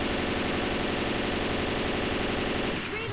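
Rapid automatic gunfire in Left 4 Dead 2 as players shoot zombies, a loud, continuous stream of evenly spaced shots that fills the whole stretch and eases off briefly at the end.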